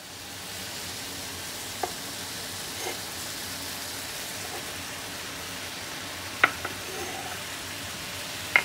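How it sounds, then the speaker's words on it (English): Tikka masala ingredients fry gently in a pan with a soft, continuous sizzle, broken by a few sharp clicks of a utensil being stirred against it, and no talking. "Going to give those a good stir and fry up"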